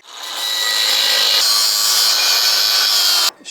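Steady high-pitched rasping cut into a metal part during a clutch repair on a Mercedes-Benz 240TD diesel, close and loud, continuous for about three seconds before stopping abruptly.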